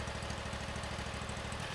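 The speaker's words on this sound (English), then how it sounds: "If the engine has been working hard or is hot, allow it to idle for a minute before stopping to help cool the engine" A GrandStand riding lawn mower engine idles at a steady, even chug, close and continuous, with no voices.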